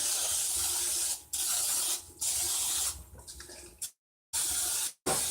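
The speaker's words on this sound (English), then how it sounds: "If you have non-stick spray, use that." Several short hissing bursts of aerosol non-stick cooking spray onto a pan, close up, each a second or so long, separated by brief pauses and a final quick spray.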